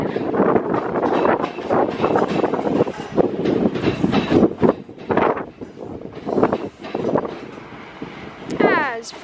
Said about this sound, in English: here comes a class, I think it's 323, working south from Manchester Piccadilly